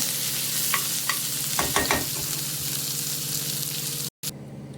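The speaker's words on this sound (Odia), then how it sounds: "ଅଳ୍ପ ପିଆଜଟା ଭଲକି ଭାଜି ହେଇଯିବ, ତା ଦେହରେ ତାର ଆଳୁ ବି ସିଝି ହେଇଯିବ।" Onion and potato fry in oil in a pan with mustard paste nearby, a steady close sizzle broken by several sharp utensil scrapes and stirs in the first half before the sound briefly cuts out.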